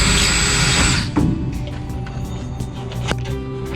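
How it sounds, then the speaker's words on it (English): A power drill runs loudly for about a second during a Sling TSi airplane build, then stops, leaving quieter shop noise with scattered clicks and knocks. "I need to drill a little bit more."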